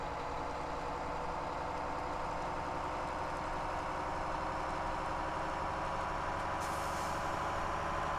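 A Peterbilt 389 truck in Farming Simulator 17 idling with a steady, loud engine rumble, then a brief hiss of air brake release near the end, with no talking.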